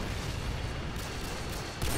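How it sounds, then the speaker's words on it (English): A Predator missile strike lands in Modern Warfare 2 (2009), a dense, roaring explosive rumble that fills the whole two seconds at steady loudness, with a fresh swell near the end. "Friendly predator missile incoming"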